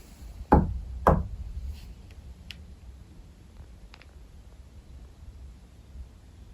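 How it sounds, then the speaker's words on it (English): Two sharp, loud knocks on a wall inside an old jail come about half a second apart, followed by a quiet room with faint ticks and low background hiss. "I'm gonna knock."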